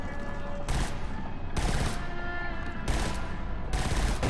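Bursts of gunfire from the video game Killzone Shadow Fall come in four loud, dense volleys separated by short pauses, with no talk over them.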